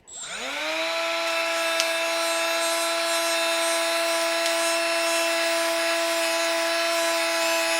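A Milwaukee right-angle die grinder, used to strip bluing from a pair of pliers, spins up quickly and then holds a steady, fairly loud high-pitched whine throughout.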